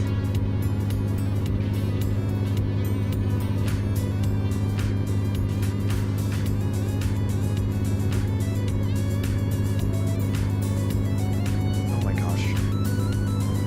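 A truck pulls a heavy trailer in a video game, its engine giving a steady, loud drone with a low hum throughout and faint clicks over it.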